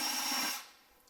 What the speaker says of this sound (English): I'm going to go from up top and drill a hole straight down